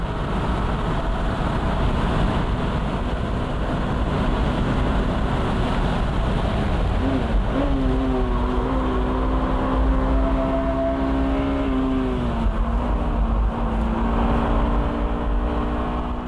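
A Honda Type R runs flat out downhill on a race track, its engine a steady loud drone with rising harmonic sweeps as it pulls through the gears, with heavy wind and road rumble underneath throughout.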